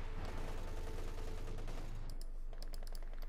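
Dense, rapid MG-34 machine gun fire in Company of Heroes 2, a steady loud rattle of overlapping shots throughout, with sharper separate reports in the final second.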